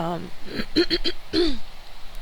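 A few short, close coughs in quick succession, mixed with voiced throat-clearing noises against a quiet background.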